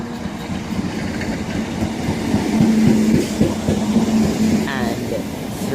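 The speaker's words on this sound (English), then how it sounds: "ThamesLink service from West Hampstead ThamesLink to Sevenoaks" A Thameslink Class 319 electric train runs through Swanley station, a loud, close rumble with rhythmic wheel clatter and a rising motor whine as the carriages pass.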